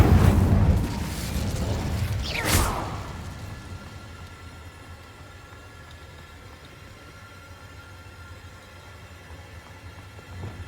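A fire spell cast in Hogwarts Legacy bursts out loud at the start, with a sharp flare around two and a half seconds in, then fades into a low, steady rumble with no talking.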